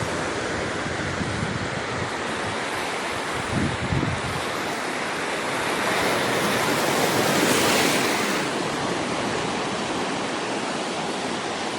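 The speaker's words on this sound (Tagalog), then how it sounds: "Malakas yung alon pero mababaw naman." Strong ocean surf crashes steadily on a shallow shore with clear water at Bagac, Bataan, a continuous roar that swells louder around the middle as a big wave breaks nearby.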